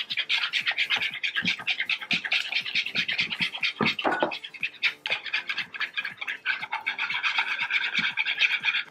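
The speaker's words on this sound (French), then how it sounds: "on va rajouter ça aux œufs que j'ai battus avec le sucre et je vais continuer de battre en versant le lait" Eggs beaten with sugar are whisked briskly in a bowl while hot milk is slowly poured in, giving a continuous, close, rhythmic scratchy whisking with quick strokes and short pauses.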